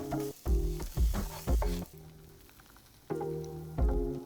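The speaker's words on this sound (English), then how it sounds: "I added the red onion straight into the same pan to soak up all the flavor." Red onion sizzles in a pan still coated with tofu drippings, loud bursts of stirring and frying crackle alternating with a quieter steady sizzle, close and with no talking.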